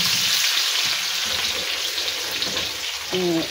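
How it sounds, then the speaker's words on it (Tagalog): Onion dropped into very hot oil for pancit bihon guisado gives a loud, steady, close-up hiss and crackle throughout, with a short voiced sound near the end. "Dahil masyadong mainit ang aking mantika, ilagay ko na si onion."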